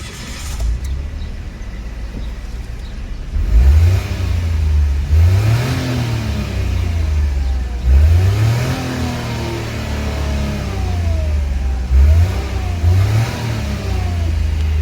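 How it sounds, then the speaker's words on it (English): A 2022 Mitsubishi Mirage G4 driving on the road, its engine revving up repeatedly through the gears with rising pitch sweeps, heard from inside the cabin at steady, fairly loud level with no talking. "Now let us take the 2022 Mitsubishi Mirage G4 to the road."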